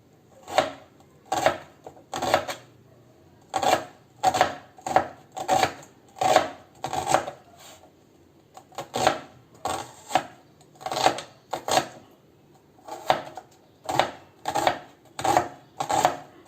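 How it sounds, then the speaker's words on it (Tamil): A knife chops small halved onions lengthwise on a board for pakoda, giving crisp rhythmic taps in quick bursts with short pauses, close and clear. "சின்ன சின்னதாக அப்படி நீல வாக்கில் இப்படி கட் பண்ணுவோம்"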